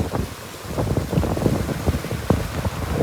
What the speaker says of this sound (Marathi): पाऊस आणि वारा आहे ना लय सुटलाय